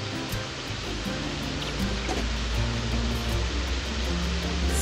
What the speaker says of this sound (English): We're thinking that this waterfall is for the upper pool.